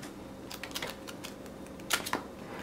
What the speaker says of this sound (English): Let's go ahead and see if these can riffle shuffle as well.